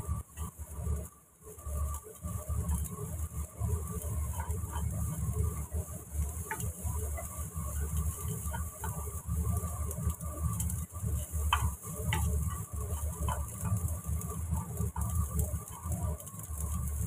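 Spicy fried rice made with instant seasoning being stirred in a pan, soft scraping and shuffling of a spatula over a continuous low sizzle, with faint background chirps and no talk.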